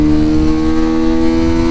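A Bajaj Pulsar 220F motorcycle engine held in first gear gives a loud, close, steady droning hum with strong low harmonics and no talking.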